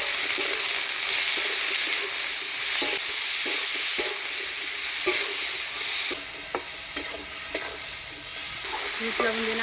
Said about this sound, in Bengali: লবণ দিয়ে নাড়াচাড়া করে নিলাম